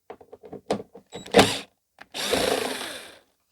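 A power driver backs out coarse-thread T27 screws from a plastic back panel on a Stihl BR550 backpack blower: scattered clicks and handling knocks, then a loud close whirring burst lasting about a second.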